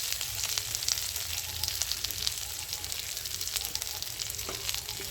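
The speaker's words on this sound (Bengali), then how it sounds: "এবার থেতো করে রাখা রসুনটা আমি দিয়ে দিচ্ছি।" Crushed garlic frying with onion in a wok of hot oil, giving a steady close-up sizzle dotted with light spatula clicks and stirring scrapes.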